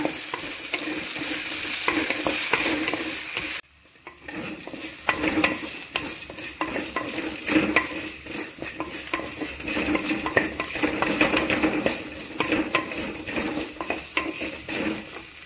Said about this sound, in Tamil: இதை நல்லா எண்ணெயில் ஃப்ரை பண்ணிக்கோங்க.